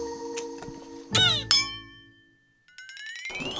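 Two glasses clink together in a toast, giving two bright, ringing strikes about half a second apart that fade away, followed by a quiet pause and a rising electronic tone.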